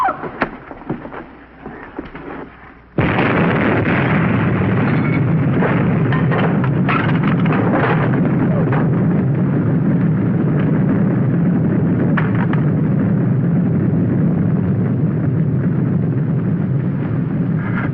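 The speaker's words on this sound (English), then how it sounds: "That shockwave will hit any second." An explosion's shockwave arrives after a few quieter seconds as a sudden, very loud roaring rush that holds as a heavy sustained rumble to the end.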